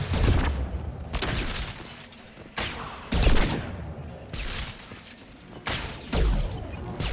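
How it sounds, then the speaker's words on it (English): Shotgun blasts in the sci-fi shooter Mass Effect 2, five heavy booming shots spaced about a second apart with sharp attacks and short decaying tails, loud and close, amid combat noise. "Shotgun!"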